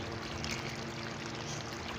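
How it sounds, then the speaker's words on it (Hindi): Water added to potatoes cooking with green chilies and masala in a pan, a steady, faint, hissing wash of pouring and simmering that runs unbroken for about two seconds with no voices. "मैंने इसमें थोड़ा सा पानी शामिल किया"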